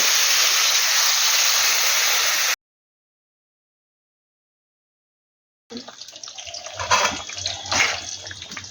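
Water pours and splashes into a pan of half-cooked vegetables for a Bengali ridge gourd curry, a broad steady gush first, then silence, then a lighter uneven bubbling and trickling as it settles.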